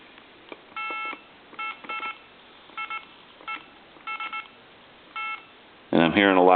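Bursts of DTMF keypad tones from an AT&T 210 Trimline telephone with a faulty keypad, several short beeps in irregular groups over a faint line hiss, ending in a louder warbling tone.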